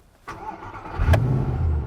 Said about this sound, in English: So if the starter button is no longer functioning, you can start the car here.